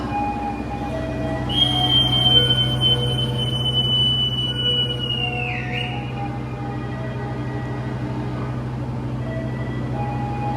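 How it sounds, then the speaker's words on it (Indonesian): A Pasundan passenger train departs from a station with a steady low rumble of rolling cars and a long, high metallic wheel squeal that glides downward and fades, with no voices. "pas banget ini ada kereta api Pasundan yang mau berangkat"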